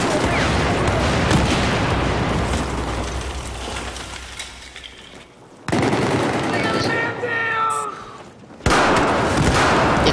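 Battlefield 4 firefight with heavy gunfire and explosion-like bursts, dense and loud through most of the stretch, briefly dropping out before resuming, with a player's voice talking over it.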